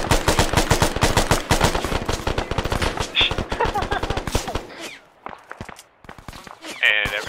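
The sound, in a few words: gunfire in the video game Arma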